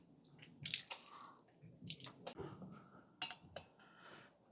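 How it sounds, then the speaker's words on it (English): Water draining out of a plastic airlock from a demijohn of homemade elderflower wine, heard as soft irregular drips and gurgling splashes with small clicks, close and fairly quiet. "Drain the water off that's in there."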